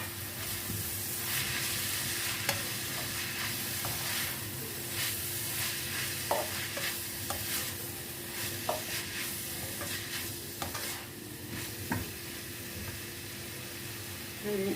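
Boiled, shredded chicken is stirred into a hot pan of frying ingredients for Chinese kebabs, giving a constant close sizzle and hiss with scattered clicks and scrapes of a spoon against the pan.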